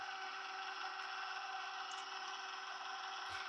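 A stand mixer beats butter for coconut biscotti in a bakery kitchen, a steady, even motor whir that holds unchanged throughout, fairly quiet, with no voices.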